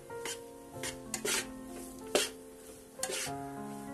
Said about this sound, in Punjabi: ਇਹਨੂੰ ਆਪਾਂ ਲਗਾਤਾਰ ਹਿਲਾਵਾਂਗੇ ਤਾਂ ਕਿ ਜਿਹੜਾ ਆਪਣਾ ਬੇਸਣ ਥੱਲੇ ਨਾ ਲੱਗੇ, ਸੜੇ ਨਾ